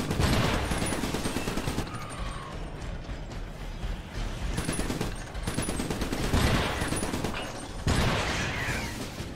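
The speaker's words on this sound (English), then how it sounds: "Who's shooting at me?" Rapid rattling bursts of video game gunfire, loud and close, arriving in repeated volleys with brief gaps between them and a dense, mechanical clatter throughout.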